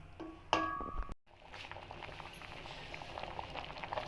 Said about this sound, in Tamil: இப்போ பாருங்கள், நல்லா கொதிச்சிக்கிட்டு இருக்கு